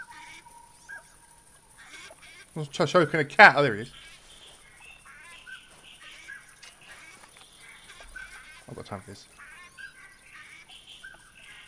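Gadwall ducks calling in theHunter 2016, a short cluster of loud nasal quacks, then scattered fainter calls in the background while someone talks over them.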